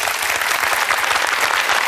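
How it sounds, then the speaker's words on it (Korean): A live audience at a Korean talk concert applauds a guest, film director Jang Hang-jun, with loud, dense, steady clapping from start to finish. "뜨거운 박수 부탁드리겠습니다"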